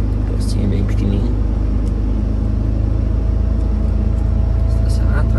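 A heavy truck idles and crawls along while its driver hunts for a parking spot at a small fuel station, a loud, constant low engine rumble droning steadily throughout.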